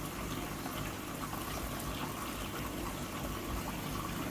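Water pours steadily into a fish fry tank, a constant dense gushing wash that stays level throughout without any voices.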